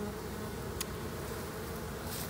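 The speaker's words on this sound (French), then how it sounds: "mais je suis quand même entouré d'abeilles" A dense, continuous drone of many honeybees surrounds a hive during an October orientation flight, close and unbroken with no voices.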